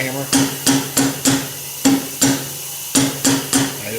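A hammer taps on the muffler of a Fairbanks Morse 3HP ZC engine, which holds 20 pounds of air pressure. The nine sharp metallic strikes ring close and loud, some in quick pairs and triplets and some after short pauses.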